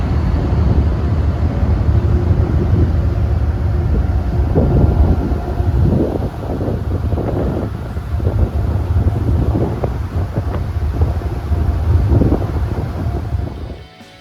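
A small ferry sets off on a choppy sea near Grimsey Island, Iceland, with heavy wind buffeting the microphone over a low engine rumble and splashing water throughout.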